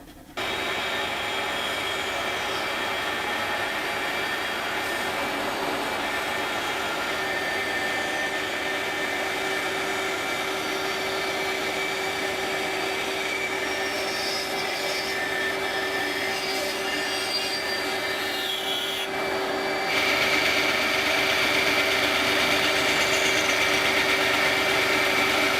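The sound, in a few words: bandsaw cutting wood pieces for handle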